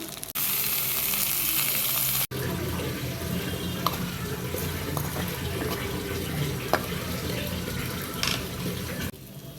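Tomatoes frying in a pan with green chillies, a loud, steady, close sizzle throughout, with a sharp cut near the start and small clicks of a spoon now and then.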